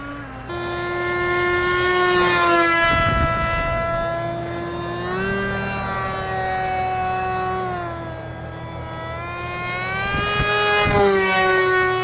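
RCPowers SU27 model plane with an electric motor spinning an 8 inch prop at part throttle, a steady whining buzz with slowly shifting pitch as it hangs in the air, rising and dipping through twelve seconds with brief gusty rumbles.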